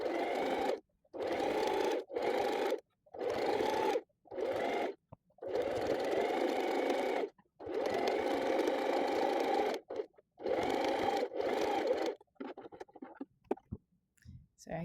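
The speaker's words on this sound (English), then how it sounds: "So this line of stitching now I'm going to do still within the seam allowance area" A sewing machine runs a gathering stitch line through fabric in repeated bursts of steady whirring, separated by brief pauses, close and clear with no talking.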